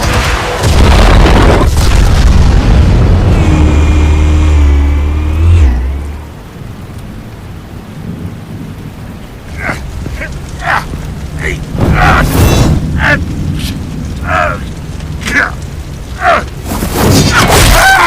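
Explosion in the Batman Telltale Games series: a loud, deep booming rumble fills the first few seconds and then fades, followed by scattered impacts and voices talking.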